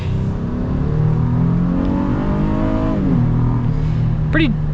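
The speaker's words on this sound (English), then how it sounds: "Pretty solid power out of the V6. Not fast, but it gets up and moves." A 2024 Honda Ridgeline TrailSport's V6 engine pulls hard under acceleration, a steady loud drone with rising then settling revs and a shift near the end, heard close from inside the cab.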